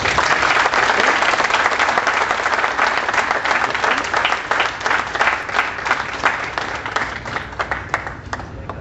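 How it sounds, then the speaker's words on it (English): Audience at a college convocation gives a loud, dense round of applause that thins out toward the end into scattered individual claps. "Let us give them all a huge round of applause to show our gratitude."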